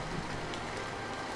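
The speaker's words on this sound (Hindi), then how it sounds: "ये बारिश कब बंद होगी?" Steady rain falls in a Hindi cartoon story, a dense, even hiss of droplets that stays constant with no voices.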